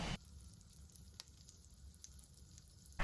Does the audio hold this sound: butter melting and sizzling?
yes